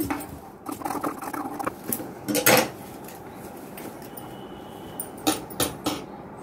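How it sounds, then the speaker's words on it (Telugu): Scissors snipping away extra main fabric, a few close crisp metallic cuts in short clusters separated by quiet pauses, with no talk. "ఇప్పుడు మనం ఇలా మెయిన్ క్లాత్ ఎక్స్ట్రా అంతా కట్ చేసేసుకుందామండి"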